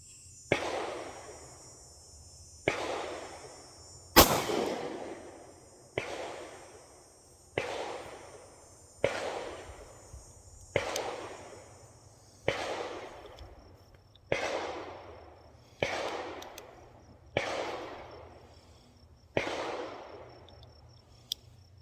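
Prototype pistol firing 124-grain rounds at an outdoor range, with its original guide rod and recoil spring: about a dozen sharp, loud shots spaced roughly two seconds apart, each with a decaying echo, and no talking.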